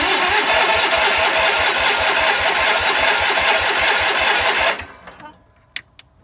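A 1976 Sears SS16 lawn tractor engine cranks steadily on its starter with a loud, even churning rhythm for several seconds, then stops abruptly, leaving a few faint clicks and knocks.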